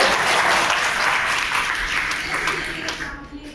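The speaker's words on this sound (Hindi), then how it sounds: "ताली बजाओ" School students applaud together in a classroom, a brief burst of dense, fairly close clapping that tapers off over a few seconds.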